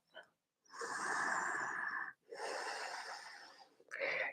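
Ujjayi breathing during a yoga practice, two long audible hissing breaths with a rough, throaty oceanic texture, close and fairly quiet, followed by the start of another.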